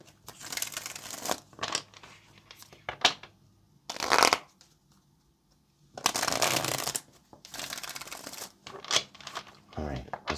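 Tarot cards are shuffled in several quick riffling bursts, close and crisp, separated by quiet pauses.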